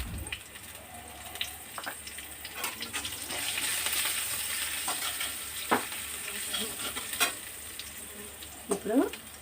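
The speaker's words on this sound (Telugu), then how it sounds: "పోపు అంతా వేగిపోయింది కదా." A tempering of green chilies and turmeric fries in oil, giving a soft, steady sizzle with scattered stirring scrapes and clinks close by, with no talk over it.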